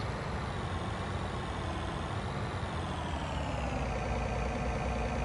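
A tractor engine in the Farming Simulator 19 video game, heard as a steady, loud mechanical drone that holds unchanged throughout with no speech over it.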